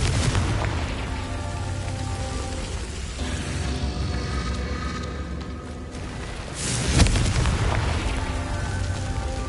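The Confringo blasting spell from a Harry Potter video game erupts in continuous rumbling explosions. The booming stays dense and loud throughout, with a sharper blast surging near the end.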